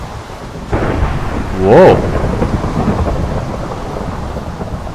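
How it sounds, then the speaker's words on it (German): A thunderstorm rolls through the Minecraft video game world, a deep roaring thunder rumble swelling and fading over steady rain-like noise, with a brief spoken exclamation over it. "Es donnert gerade ganz gewaltig auf den Ohren."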